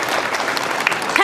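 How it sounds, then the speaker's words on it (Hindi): Loud applause from a crowd of children at a Republic Day school event in Rasulpur, dense continuous clapping with a few sharper accents near the end. "आप लोग जोरदार तालियों से इन सब का स्वागत करें"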